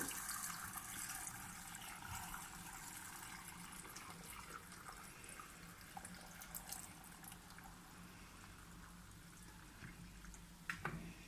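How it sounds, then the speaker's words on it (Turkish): Drinking water pours steadily into a jar of olives being cured in ash, a faint continuous trickle and splash that continues throughout with a few small clinks near the end, no voices. "Üzerine çıkana kadar içme suyunu ilave ediyorum."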